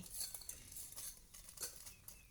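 Insects dry-roasting in a pan at home, with a utensil stirring and scraping so the pieces rattle and patter in quick, light clinks against the metal, close up and fairly quiet.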